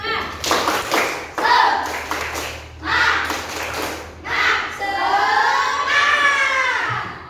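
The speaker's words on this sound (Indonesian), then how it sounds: "ayo kita tepuk semangat terlebih dahulu" Elementary class chanting the rhythmic 'tepuk semangat' clap routine, children's voices shouting in unison between bursts of hand claps, close and loud, with clapping accenting the chant in rhythmic groups.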